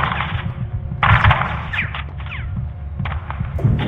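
Bursts of rapid gunfire in Call of Duty: Modern Warfare II, dense automatic rattling with heavy low thumps over a rumbling game soundscape, loud and close, with no talking.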